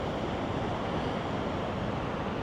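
Ocean surf rolling onto the shore in low light, a steady broad wash of waves with wind noise buffeting the microphone, loud and continuous with no voices.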